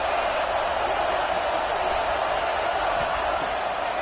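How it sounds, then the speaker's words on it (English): A stadium crowd at a football game against Auburn, roaring steadily and loudly behind the defense on third down, a dense unbroken wall of cheering noise throughout. "Decibels rising as the crowd gets behind this defense on third down"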